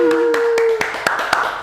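A few sharp hand claps in an uneven rhythm, close by, with a sustained voice tone at the start and talk in the background.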